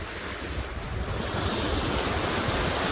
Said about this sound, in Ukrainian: Хоч трошки море і штормить